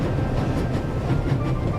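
A train in The Raven game rolls at full speed, a steady loud rumbling roar with faint rhythmic rail clatter and no pauses, heard alone.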